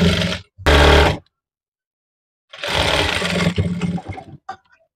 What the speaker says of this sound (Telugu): ఇప్పుడు ఆపోజిట్ సైడ్ మనం ఇలా కింద నుంచి స్టిచ్ చేసుకుంటా రావాలి.